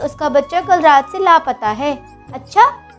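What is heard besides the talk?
None of the usual background noises is heard.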